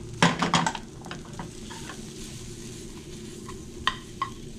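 Kale cooking down in butter in a pan, with a burst of utensil clatter at first, then a soft, steady sizzle and a couple of sharp clinks near the end.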